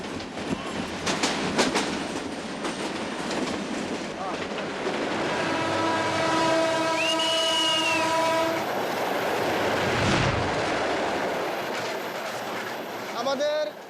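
A crowded passenger train running along the rails in Bangladesh, a steady loud rumble with rhythmic clatter and a long horn blast midway, heard from close by.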